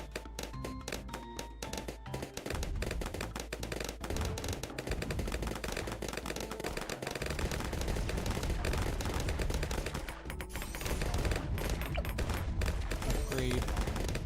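Rapid bursts of cannon fire from cannon ships in the Bloons tower defense game, a loud, dense barrage of repeated booming shots that continues steadily and swells even louder toward the end.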